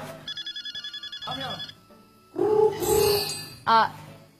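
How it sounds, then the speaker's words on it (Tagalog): A mobile phone ringtone rings in a quick series of repeated electronic tones, then gives way to several voices talking over each other and a short final electronic burst. "nagriring yung phone mo"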